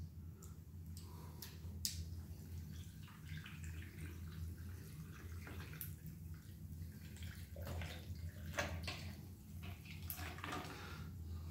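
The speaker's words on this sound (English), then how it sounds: "We're going to add some water on top." Water pours steadily into a container, a continuous soft splashing with occasional clicks and taps, fairly quiet and close.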